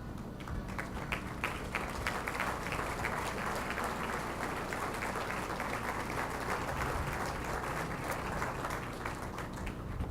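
An audience applauds at a building dedication ceremony at the OSU Center for Health Sciences, sustained dense clapping from a crowd that stays at an even level for about ten seconds, heard from a distance.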